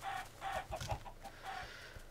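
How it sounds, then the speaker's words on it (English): Repeated chicken clucks and short squawks from a video game sound in quick succession over a muffled, slightly buzzy background. "These stupid chickens."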